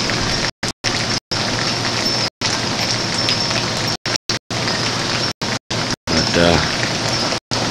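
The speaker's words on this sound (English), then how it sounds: "we've got the, you know, the rain and wind and all blowing in the trees over there" Heavy rain and wind during Hurricane Katrina, blowing through trees; a dense, steady roar of driving rain with gusting wind, close and loud, broken by several brief dropouts.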